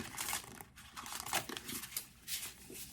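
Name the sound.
shuffling tarot cards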